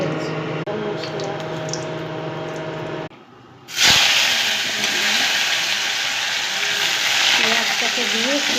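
Potatoes frying in a pan give a loud, continuous sizzling hiss that drops out briefly, then surges back strong and steady.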